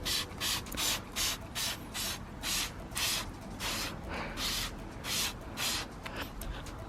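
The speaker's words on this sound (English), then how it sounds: "So the action of the spray is fantastic." Turtle Wax Hybrid Solutions iron remover wheel cleaner sprays from a trigger bottle onto a car wheel, about fourteen evenly spaced hissing squirts in a steady rhythm, close and fairly loud.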